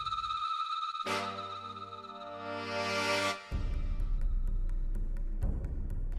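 A telephone rings in a domestic setting in a Hindi TV drama, a steady electronic ring tone with harmonic tones that cuts off after a few seconds, followed by low rumbling background sound.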